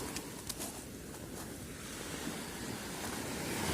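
Sea waves and wind on the winter coast at Erdemli, Turkey, near a pier: steady roaring surf with gusty wind buffeting the microphone, loud and continuous with no voices.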